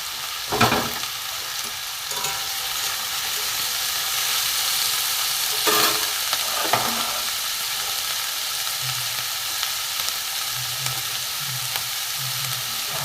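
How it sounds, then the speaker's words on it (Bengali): Chopped capsicum fries in a pan with beans for vegetable rolls, giving a steady close sizzle with occasional stirring scrapes and brief louder bursts, with no talking. "এখানে কাঁচা লঙ্কা দিয়ে দেবো ভালো করে আমি একটু ভাজবো"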